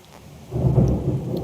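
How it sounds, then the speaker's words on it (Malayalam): Rain patters softly, then a deep roll of thunder swells in about halfway and rumbles on under the downpour. "നിങ്ങളാ മഴൻ്റെ ശബ്ദം കേട്ടോ?"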